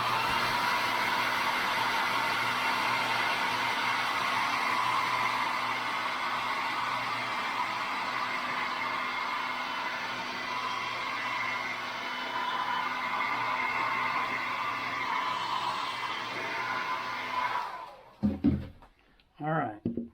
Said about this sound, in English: Now I'm going to hit the dryer in a few more seconds because the next step's got to be dry.